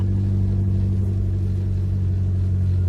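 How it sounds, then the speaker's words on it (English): A Vauxhall Nova converted to four-wheel drive, its engine droning loud and steady at constant revs, a deep rumbling hum with no pauses. "It's bogging down between gear changes, top end, and I've no idea why."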